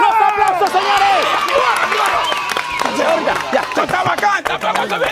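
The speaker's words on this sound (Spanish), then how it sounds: "¡Bravo! ¡Los aplausos, señores!" A live television studio audience claps and cheers in a dense, bustling burst, with excited shouting voices mixed through the applause.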